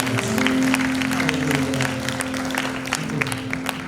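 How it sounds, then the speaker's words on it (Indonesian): Congregation of seniors clapping at an onsite church worship service, loud sustained applause with voices mixed in, lasting a few seconds. "Tepuk tangan buat Tuhan Yesus."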